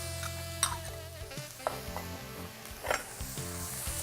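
Ginger and fresh garlic sizzle in a pan while being stirred, with a steady frying hiss, scraping stirs and a few sharp clinks of utensil against pan, close and fairly quiet.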